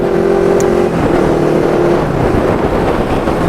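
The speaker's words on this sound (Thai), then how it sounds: "กระบะซิ่งครับกระบะซิ่ง โอ้โหควันควันดำด้วย" Pickup truck speeding on a road and revving hard, a loud, close engine roar with a steady drone and shifting pitch, running without pause.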